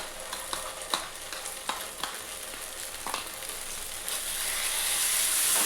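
A cashew and poppy seed paste sautéing in a pan, a soft steady sizzle punctuated by several sharp spatula taps and scrapes, growing slightly louder toward the end, with no voices.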